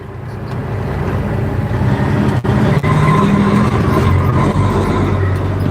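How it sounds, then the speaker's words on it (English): A loud, continuous semi-truck engine drones and rumbles from inside the cab in heavy Twin Cities, Minnesota traffic, with road noise and a couple of brief clunks. "If the truck noise gets to be too loud, let me know"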